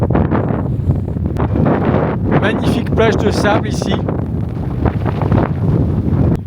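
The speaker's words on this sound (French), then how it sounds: "il y a un vieux vent, 70 km/h" Heavy wind of about 70 km/h at the seashore buffets the microphone in a constant low roar, with someone talking over it throughout.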